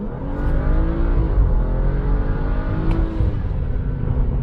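A BMW F30 engine under full throttle in S4 mode, a loud continuous rising drone as revs climb through the gear, heard from close by with no talking.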